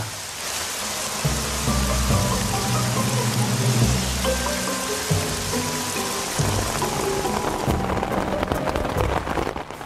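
Heavy rain pours down steadily, a loud broad rush of water with low rumbling beneath it that eases off toward the end.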